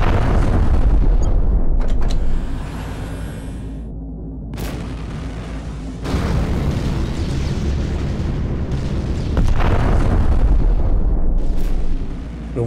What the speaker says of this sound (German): Irgendwas explodiert immer noch hinter mir.